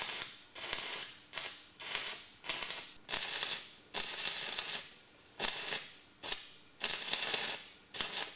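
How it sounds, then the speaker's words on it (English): GE Electrek DC stick welder powered by an electric tractor mower: about ten short bursts of harsh crackling hiss, each lasting under a second and separated by brief gaps, close up and with no talking. "It's a GE Electrek branded DC stick welder powered by the mower"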